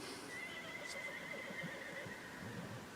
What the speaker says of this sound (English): Am I hearing a horse?